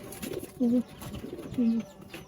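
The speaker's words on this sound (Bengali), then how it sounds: "আমার কবুতরটি লেগে এক নম্বর কবুতরটা দেখাই" Two deep, soft coos from a pigeon come close and clear, about a second apart, over faint background noise.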